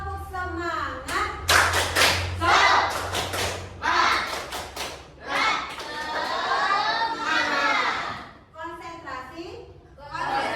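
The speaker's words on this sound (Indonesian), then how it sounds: "tepuk semangat." A class of seventh-grade children in a mathematics lesson performs a rhythmic spirit clap, bursts of sharp claps and thumps in a patterned beat mixed with children's chanting voices, loud and close, followed by a short pause and more clapping.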